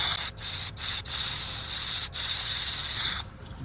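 A steady, loud abrasive hiss of 150-grit sandpaper rubbing on soft wood spinning fast on a lathe, a bowl bottom, broken by a few brief pauses before it stops.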